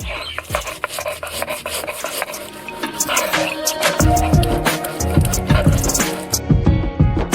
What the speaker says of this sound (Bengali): এরপরে গোটা জিরা বেটে নেব।